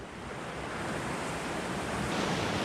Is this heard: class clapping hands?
no